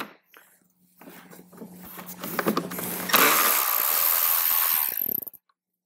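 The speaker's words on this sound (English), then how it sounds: "So we're going to go ahead and remove the screw." Power driver removing a T20 Torx screw from a Harley-Davidson bag handle: a short whir and rattle, then a steady, loud, close buzzing run for about two seconds before it stops abruptly.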